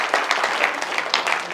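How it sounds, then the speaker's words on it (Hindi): Audience applause at a Hindi kavi sammelan poetry recital, a thin scattering of claps that is moderately loud but sparse and uneven, with no voices over it. "तालियां कम हैं आपकी"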